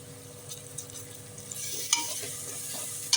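A ground spice paste of cloves, fennel, marathi moggu and cardamom is sautéed in a pan for biryani, with soft sizzling and occasional scraping stirs, close and fairly quiet, building slightly toward the end.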